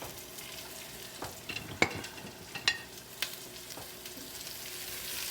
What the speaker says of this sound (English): So my onions are starting to sizzle